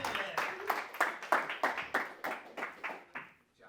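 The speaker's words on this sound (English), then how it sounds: "So give a round of applause for Carnell." A small audience claps for a guest being welcomed on a talk show, sharp claps fading across a few seconds until they stop.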